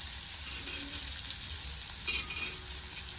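Sliced bitter gourd fries in hot oil in a pan, a soft steady sizzle and crackle continuing evenly throughout, quiet and with no voices.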